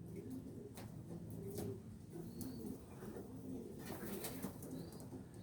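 Racing pigeons coo in low, repeated bubbling calls under a steady rustle of movement, with a few faint wing flutters and chirps mixed in, and no one speaking.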